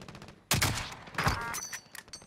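A single sniper rifle shot rings out in Call of Duty: Modern Warfare, a sharp loud crack with a trailing echo, followed by a second burst and softer game noise.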